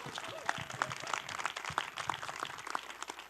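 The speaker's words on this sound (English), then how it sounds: "How about a big round of applause for Gordon?" Scattered applause from a small audience at a school board of education meeting, a few moderately loud claps with a voice talking faintly underneath.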